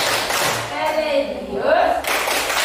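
A classroom of Indonesian schoolchildren performs a short rhythmic clapping chant led by a teacher, quick hand claps mixed with their chanted voices in a brief, lively burst.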